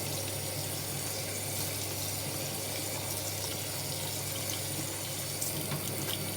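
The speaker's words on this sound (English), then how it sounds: "Put that to the side, turn the tap off." Steady water running from a kitchen tap, a continuous gentle rush with no talking, fairly quiet and unchanging throughout.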